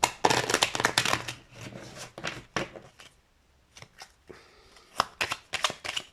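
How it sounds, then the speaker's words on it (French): Tarot cards are shuffled by hand in repeated bursts of crisp riffling and slapping, close and fairly loud, with short pauses between flurries and no talk. "J'ai envie de mélanger vachement plus."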